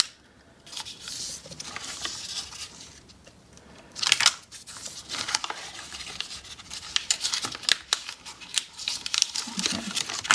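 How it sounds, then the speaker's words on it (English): Paper being folded for an origami heart crinkles and scrapes up close, with soft creasing swipes and brief louder crackles spread across the stretch, no talking. "Fold this in half just to get those lines."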